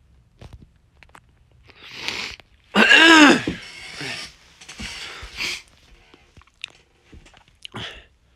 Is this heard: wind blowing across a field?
no